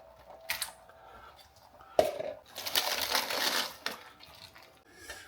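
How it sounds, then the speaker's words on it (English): Uncooked shrimp and scallops are tipped into a pot of milky seafood chowder, giving a sharp clatter, then a few seconds of wet sliding and crackling splashes, ending with a final knock near the mic. "So now we're going to add our uncooked shrimp and uncooked scallops."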